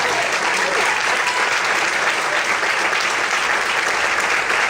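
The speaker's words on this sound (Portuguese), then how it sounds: "Quantos podem aplaudir e exaltar o nome de Deus nessa noite?" A church congregation applauds during an evening service, a dense, steady wash of clapping from many hands that fills the room without pause, with a faint voice or two underneath.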